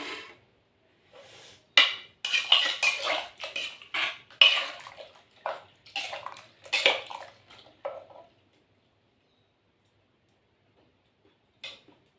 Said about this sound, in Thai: เรียบร้อยจะมาเทใส่จาน